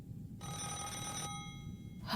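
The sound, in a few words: telephone ringing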